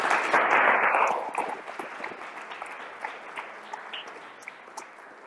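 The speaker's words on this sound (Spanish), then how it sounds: "Vamos a darles un aplauso." Applause from a church congregation, loud at first and then thinning into scattered claps over a few seconds, heard alone without talk.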